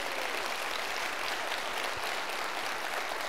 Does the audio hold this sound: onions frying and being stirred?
no